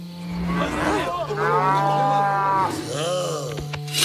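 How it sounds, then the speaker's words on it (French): Herd of cartoon cows mooing in a long, loud chorus of overlapping lowing calls, with drawn-out bellows rising and falling across the span. "On a juste encerclé un troupeau de vaches, commandant."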